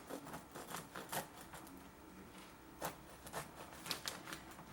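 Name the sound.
knife cutting a crusty bread sandwich in half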